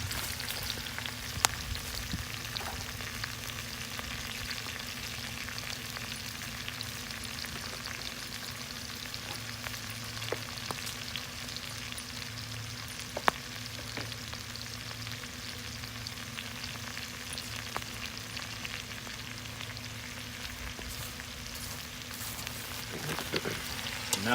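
Onions and apples fry in a pan for red onion marmalade, a steady close crackling sizzle running unbroken throughout with a few sharper pops and no talking.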